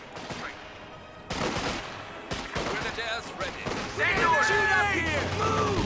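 MG34 machine gun fire in a Company of Heroes 2 battle: rapid, sustained bursts of automatic fire mixed with other gunfire and explosions, steady and fairly loud throughout, with a voice talking over it.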